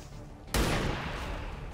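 A single loud gunshot fires in the XCOM turn-based tactics video game, an abrupt blast that rings out and decays slowly over a steady background.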